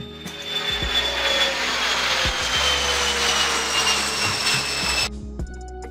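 An air ambulance aircraft used for medical emergency transport gives a loud, steady mechanical roar with a rhythmic chopping pulse, close and continuous, then cuts off abruptly near the end.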